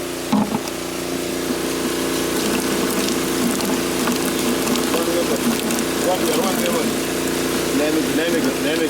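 An electric water pump runs steadily outdoors in Jamaica beside a washing area with soap and a scrub brush, its constant hum under flowing water, with people talking nearby.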